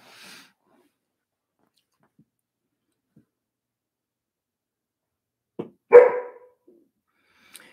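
Dog barking in a quiet room: a few short, sharp barks close together near the end, loud and close, following long silence with no talk.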